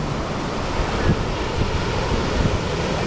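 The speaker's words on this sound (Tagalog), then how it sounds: "Yan oh, lalaki ng alon." Big ocean waves roll and crash at sea, a loud continuous wash of surf mixed with heavy wind buffeting the microphone.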